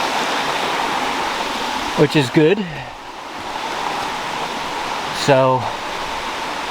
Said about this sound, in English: I made it back to the river crossing